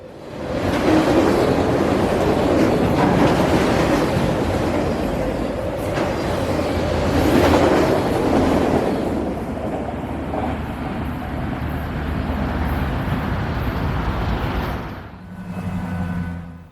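A train rumbles through a railroad crossing near Spring City, Tennessee, its loud, continuous roar and rolling rail noise swelling and easing as the cars pass close by, then thinning out at the very end.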